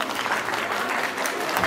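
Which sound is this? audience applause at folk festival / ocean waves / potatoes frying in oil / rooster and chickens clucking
audience applause at folk festival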